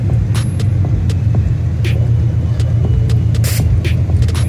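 A Ford car fitted with a Roush Phase 1 supercharger running at a car show, a loud, steady low engine rumble heard close by with scattered clicks and crowd noise over it.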